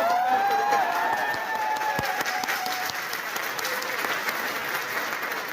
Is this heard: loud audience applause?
yes